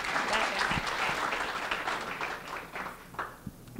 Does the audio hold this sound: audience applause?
yes